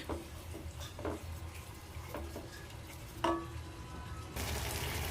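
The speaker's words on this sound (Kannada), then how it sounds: "ಎಣ್ಣೆ ಎಲ್ಲ ಬಿಟ್ಕೊಳೋ ಗಂಟ ಸ್ವಲ್ಪ ಫ್ರೈ ಮಾಡೋಣ" Oil fries in a pan with a steady sizzle while a spoon stirs and scrapes now and then, and the sizzle turns louder and fuller toward the end.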